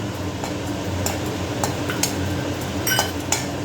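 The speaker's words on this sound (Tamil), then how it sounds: "முந்திரியை வறுத்துக்கிறேன்" Cashew nuts being roasted in a pan with a metal spoon, scattered light clinks and scrapes of the spoon against the pan at an irregular pace over a soft background hiss, no talking.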